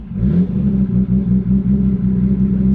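A car engine idles steadily just after starting, a low, even, close rumble with no revving or speech.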